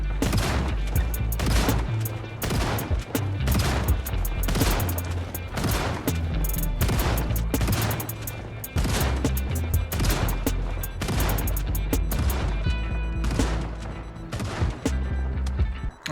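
Rapid gunfire shooting zombies in the video game Project Zomboid, loud close bursts of repeated shots in a fast, almost continuous rhythm with brief pauses.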